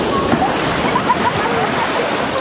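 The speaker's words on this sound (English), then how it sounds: "Watch out for the waves." Surf at a beach in Puerto Vallarta washes and splashes continuously, a loud broadband roar of breaking water close by, with children's voices faintly under it.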